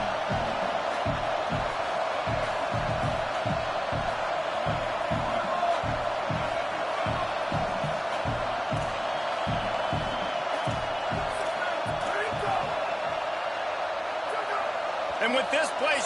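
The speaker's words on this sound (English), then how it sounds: "And with this place rocking, the crowd forces a false start." Loud stadium crowd roaring at a USC vs UCLA college football game, a sustained broad roar with rhythmic thumping underneath, heard beneath a commentator's talk throughout.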